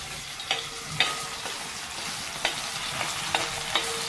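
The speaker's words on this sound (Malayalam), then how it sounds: "അതും എണ്ണയിൽ ഈ തേങ്ങ വറുത്തെടുത്ത പോലെ തന്നെ കിഴങ്ങും വറുത്ത് എടുക്കുകയാണ്." Thin potato slices frying in hot oil, a continuous soft sizzle punctuated by occasional clinks and scrapes from stirring, close by with no talking.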